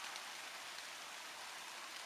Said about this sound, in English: But never mind, it's raining.